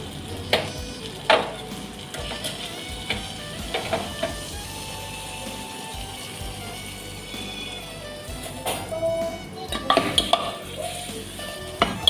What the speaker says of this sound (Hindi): ये मैंने डेली का तड़का लगाना बताया आपको।